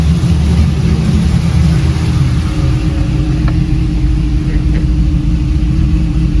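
LS1 V8 in a third-generation car, running through Flowmaster mufflers with the exhaust cutout closed, holding a steady, deep burbling idle close by with a slight swell in revs and no talking.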